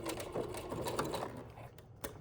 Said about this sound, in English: I'm gonna machine stitch it